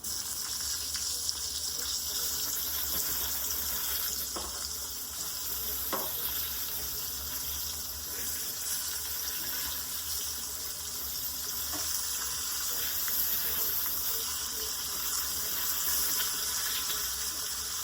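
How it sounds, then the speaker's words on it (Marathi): Stuffed eggplants fried in hot oil in a pan with asafoetida and curry leaves, giving a steady, loud, continuous sizzle with a few faint clinks, no talking. "सगळी वांगी आता छान तेलामध्ये परतून घेते मस्त तेलामध्ये परतून घेते"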